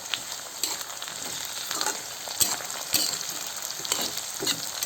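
Raw black pepper sizzles and spits in a hot pan while being stirred, a continuous soft frying crackle with scattered sharper pops, close and alone.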